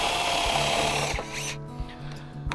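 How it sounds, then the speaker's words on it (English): A power drill bores into wood while making a wooden reindeer, a loud close whine that winds down midway, followed by quieter workshop knocks and taps. "I just drill into the wood"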